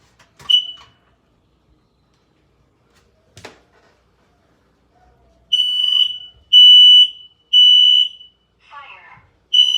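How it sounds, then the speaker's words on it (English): A smoke alarm on a house's ground floor emits loud, piercing high-pitched beeps in a steady sequence of three long tones after a few quieter clicks and handling noises. "the second smoke alarm is on the ground floor"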